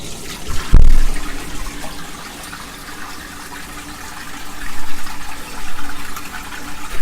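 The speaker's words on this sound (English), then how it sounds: "Feel free to flush a toilet if you like. All right, we're gonna try the toilet." A toilet flushes in a converted Boeing 727 airplane home: a sharp pneumatic burst, then steady rushing water and a gurgling, surging refill, close and loud with no talk.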